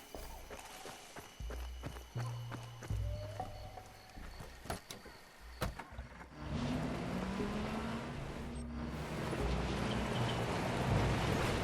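Footsteps and clicks in Far Cry 2 give way to a car starting up and driving, its engine rising into a steady, loud drone that fills the second half.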